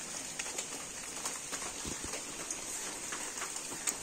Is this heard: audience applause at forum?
no